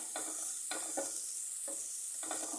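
Spinach stir-fry (thoran) with salt being stirred in a pan: a constant hiss of sizzling under several separated bursts of spatula stirring, close and clear, without any speech.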